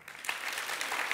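A conference audience claps their hands, a short burst of dense, even applause that swells quickly.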